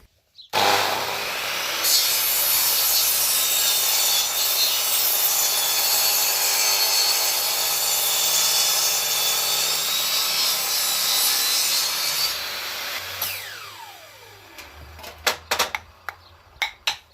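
Small wooden handles for a homemade barbecue grill are shaped with a power tool in a continuous loud abrasive whine lasting about twelve seconds, then it winds down into a few sharp knocks and clicks.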